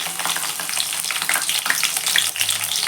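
Green chillies, fennel seeds and garlic frying in hot oil for a semolina kichdi, a loud, continuous crackling sizzle with dense spitting pops running steadily throughout, close up and without voices.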